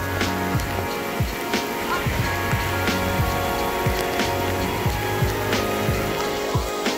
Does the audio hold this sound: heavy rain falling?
yes